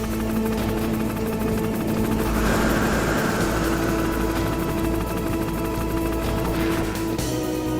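A Hind attack helicopter roars steadily throughout a Metal Gear Solid battle, its dense rotor and engine drone loud and continuous, with a brief swell of gunfire-like noise in the middle.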